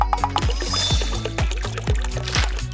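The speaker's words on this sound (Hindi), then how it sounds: "गुब्बारे को नोजल पर लगाए और पानी डाले।" Water pours from a nozzle into a rubber balloon, a steady close gurgling flow with repeated sloshing pulses as the balloon fills, with no voices.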